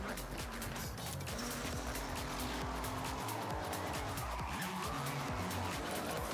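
A car in Forza Horizon 6, running on a GTX 1050 Ti, driven roughly with a loud, constant engine roar and sliding tire squeals layered throughout.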